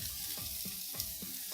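Jalapeno and green pepper frying in a pan for a squash, pepper and beef stew: a steady close hiss of sizzling oil with soft rhythmic stirring scrapes every few tenths of a second.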